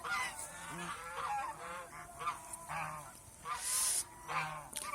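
Domestic geese on a Bengali farm honk repeatedly in overlapping, nasal calls, several birds close by, with a rough outdoor background between the bursts.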